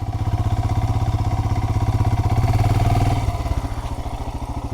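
Royal Enfield Himalayan motorcycle engine thumping steadily at low revs, a loud, close single-cylinder pulse that drops slightly in tone partway through, with no talking.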